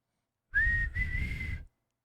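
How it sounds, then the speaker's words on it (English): A single clear whistle, held for about a second with a brief break, near and moderately loud, heard alone against silence. "there's a whistle"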